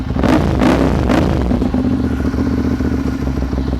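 A 2013 Ducati Monster 795 DP ABS motorcycle is revved up close: three quick sharp blips of the throttle, then a loud, steady, throbbing idle with no talking.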